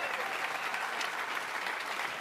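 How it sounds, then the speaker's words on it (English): Applause from the crowd at a professional ten-pin bowling tournament, a steady wash of clapping at moderate distance throughout. "you see Anthony Simonson applauding the effort for Andrew Anderson"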